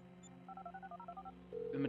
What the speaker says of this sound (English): I'm making the call.